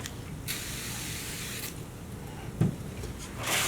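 A can of solvent cleaner, plastic and leather prep, sprays in short hissing bursts at close range, with a soft knock midway and a longer spray trailing at the end.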